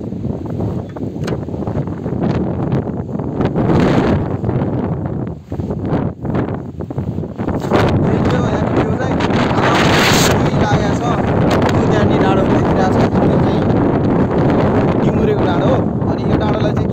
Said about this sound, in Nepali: हावा चाहिँ अति लागेको छ यार